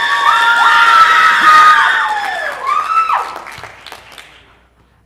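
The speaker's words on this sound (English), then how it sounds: "Can we give them another round of applause," An audience at a school singing competition cheers and applauds, high shrill screams and whoops from young voices over clapping, loud at first and then fading away.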